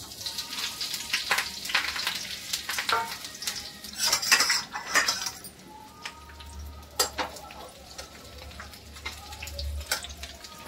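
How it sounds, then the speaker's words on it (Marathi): Green chillies fry in hot oil for a Marathi chilli pickle, crackling and spitting briskly while a utensil clinks and scrapes against the pan at frequent intervals. "तर मिरच्या थोड्याशा आपण तेलामध्ये परतून घेऊया।"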